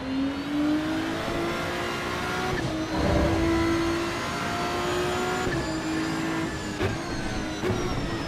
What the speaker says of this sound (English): Downshifts sound so good right now.